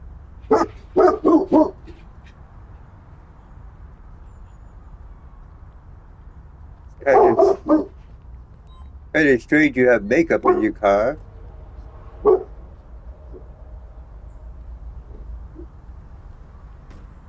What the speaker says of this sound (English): My canine unit is barking.